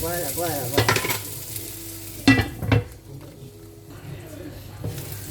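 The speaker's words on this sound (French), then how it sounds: "on laisse bien cuire l'oignon" Onion cooking in a pan for a leftovers gratin, a soft sizzle with stirring scrapes and a couple of louder knocks against the pan, with brief talk over it.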